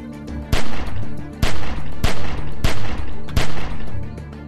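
Gunfire in The Walking Dead video game: five or six loud, sharp shots in an irregular rhythm over a steady rumbling background, with brief gaps between the blasts.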